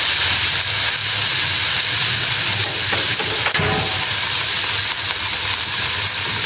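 Carrots and cabbage for a vegetable tofu filling sizzle in a pan over lowered heat, a steady, close, loud hiss with faint crackles running throughout.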